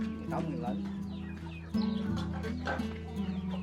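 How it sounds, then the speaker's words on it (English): Chickens raised in a Vietnamese village cluck in short, repeated bursts, nearby and fairly clear, over a steady low background hum. "My uncle also raised chicken."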